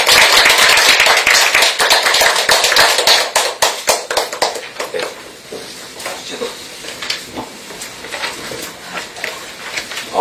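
Church congregation applauding to welcome a visiting missionary speaker at a bilingual Korean-Japanese Sunday service, loud dense clapping at first that thins into scattered, fading claps.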